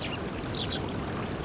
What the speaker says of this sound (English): They take advantage of an ample supply of water to flood their rice paddies.